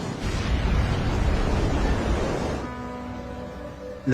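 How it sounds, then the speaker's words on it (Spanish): A loud, sustained roar of rushing noise as an airplane hits ocean water at nearly 200 km/h, cutting off abruptly into a quieter hum with a faint tonal drone, ending in a brief thump. "El avión golpea el agua a casi 200 kilómetros por hora."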